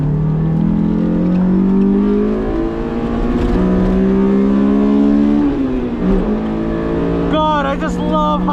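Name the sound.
stock Honda S2000 engine revving high on a race track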